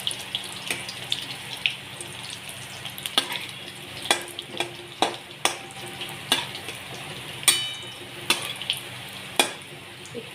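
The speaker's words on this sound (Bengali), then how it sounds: "তেলটা আমার গরম হয়ে গেছে, তো আমি একসাথে অনেকগুলোই ফেলে দেবো। এইভাবে আমি এটাকে ভেজে নেব।" Pieces of roti frying together in hot oil, a steady sizzle under repeated sharp clinks and stirring knocks spaced through the clip, with no talking.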